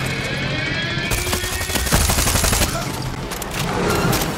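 Rapid gunfire from the video game Far Cry 6 fills the whole stretch, dense bursts and cracks from automatic weapons layered with loud booming shots, continuous and close throughout.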